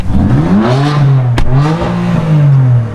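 A BMW M3 fitted with a new exhaust system revs hard in Sport Plus mode, its loud, close engine note climbing and falling in pitch with a crackle at the peak.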